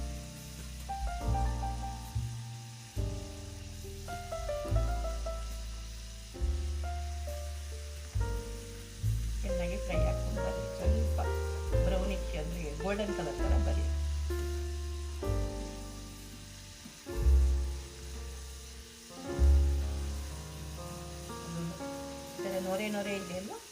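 French fries deep-frying in hot oil at home, a steady, rain-like sizzle with foaming bubbles that runs continuously beneath a person talking throughout.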